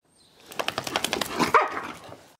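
A fairly nervous dog jumps around and lets out a rapid run of about a dozen short, moderately loud barks, building to a stronger final yelp before it fades out.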